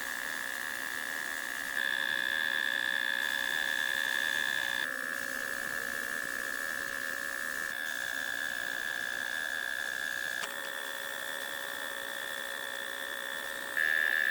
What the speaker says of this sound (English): The sound of fastening repeats steadily.